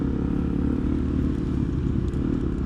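A Suzuki DRZ dirt bike climbs a small step on a densely wooded trail, its engine a continuous, close, low rumble throbbing without a break.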